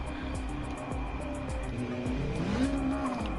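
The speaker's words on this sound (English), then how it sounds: "And they're revving up their engines" Race car engines rev in Gran Turismo 7 at the Barcelona circuit, a dense layered drone of several engines rising and falling in pitch, with a loud upward sweep near the end.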